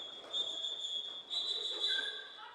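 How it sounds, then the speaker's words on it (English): Referee whistles sound at a roller derby bout, a piercing shrill tone held in two long blasts with a brief gap, over crowd and arena noise. "All I can hear is whistles."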